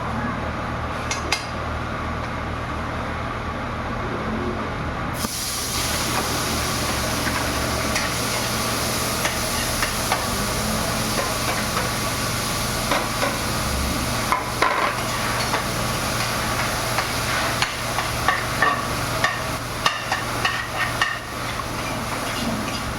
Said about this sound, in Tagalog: Kunti lang na mantika. Magigisahan lang ng bawang sibuyas.